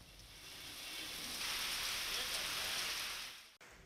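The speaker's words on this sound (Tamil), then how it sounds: "நந்தனம் உள்ளிட்ட பகுதியில் பலத்த மழை பெய்தது" Heavy rain pours down in Chennai, a steady, dense hiss of falling water that swells louder midway and stays loud before cutting off abruptly near the end.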